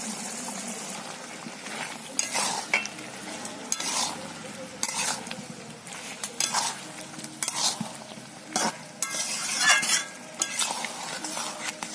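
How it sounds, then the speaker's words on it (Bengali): Fried potatoes and jackfruit being stirred into a hot pan for a vegetarian jackfruit biryani: repeated scraping strokes of a spoon against the pan over a steady low sizzle, close and moderately loud, with no talking. "দিয়ে দিচ্ছি ভেজে রাখা আলু আর এঁচড়।"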